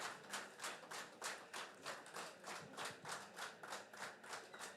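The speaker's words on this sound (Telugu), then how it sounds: "గట్టిగా క్లాప్స్ కొట్టండి సార్" An audience claps loudly at a training program event, with a steady rhythmic applause pulsing evenly throughout, close and sustained, without talk.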